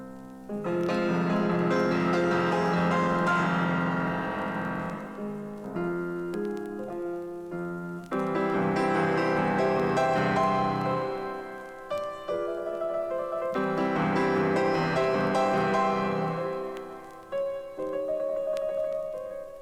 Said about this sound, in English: by using our 10 fingers on the keyboard, we can produce splendid sounds like this